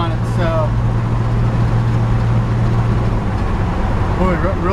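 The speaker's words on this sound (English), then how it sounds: "You hear that this truck's pretty quiet." A 1952 Chevy 3100 pickup cruises down the road, its steady low engine hum and road rumble running constantly beneath a voice.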